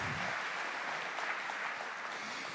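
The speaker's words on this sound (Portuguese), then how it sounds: "Vamos aplaudir cada um que está aqui." Audience at a Catholic talk applauding laypeople, bishops and priests: dense, steady clapping from a large crowd filling the space, continuous and fairly even throughout.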